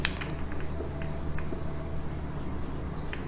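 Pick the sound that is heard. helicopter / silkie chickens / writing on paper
writing on paper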